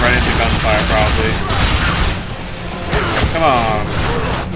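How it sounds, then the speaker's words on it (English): Gunfire and explosions crackle in the video game Bulletstorm, Duke of Switch Edition on Nintendo Switch, bursts of shots and whooshes layered over a busy game soundtrack with voices in the mix. "I shouldn't run right into gunfire, probably."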